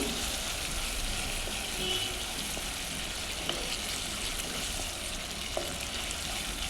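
Turmeric being stirred into eggplant curry frying in a pan gives a steady, even sizzle of hot oil that stays close and constant, with a few faint scrapes of stirring and no talking.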